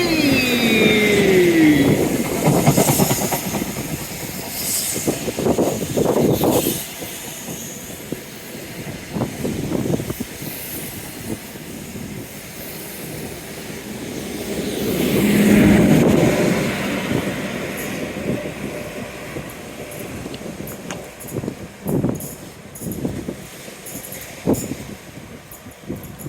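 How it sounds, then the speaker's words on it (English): A train runs along a seaside seawall in grey drizzle, its long, loud rumble of wheels and engine rising and falling over about half a minute with a few squeals and clanks, heard up close outdoors. "hopefully we got some nice train noises with the wind blocker off"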